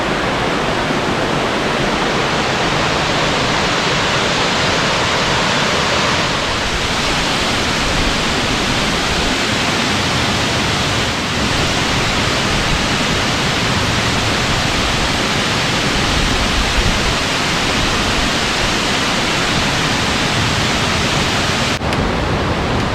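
Waterfalls and a flowing creek on the Falls Trail at Ricketts Glen, with the tallest fall at 94 feet, make a loud, steady broadband rush that holds unbroken and close for the whole stretch, with no voices.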